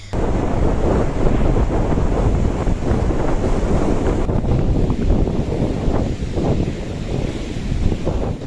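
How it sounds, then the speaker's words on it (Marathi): Loud, steady roar of gusting wind buffeting the microphone during rain showers at Malvan on the Konkan coast, with rough sea surf churning underneath and no voices. "सोसाट्याच्या वाऱ्यासह पावसाच्या सरी बरसत आहेत समुद्र खवळला असून अजस्र लाटा"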